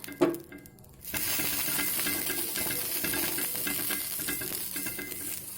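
Oil is spread across a hot tawa griddle while making pitha, starting with a brief clatter, then a steady hissing sizzle that continues throughout with no talking.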